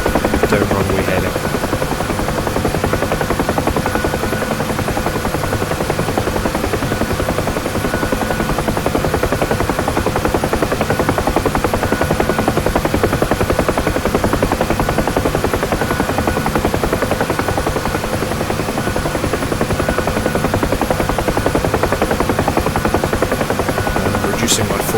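A UH-1 Huey helicopter in the DCS flight simulator makes a loud, steady rotor and turbine drone that runs unbroken near a runway, with a thin high whine on top throughout.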